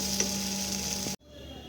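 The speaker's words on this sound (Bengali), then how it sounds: "এইভাবে ডিমগুলোকে ভাজা ভাজা করে নিতে হবে মশলার সাথে" Eggs fry with spices in a pan, a steady close sizzle with a brief stir scrape, cut off abruptly near the end by a quieter background.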